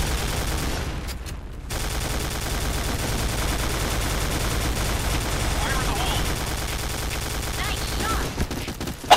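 Sustained machine gun fire from an MK.46 in the Point Blank video game rattles continuously and loudly with only a brief dip, mixed with game effects, while a player talks over it.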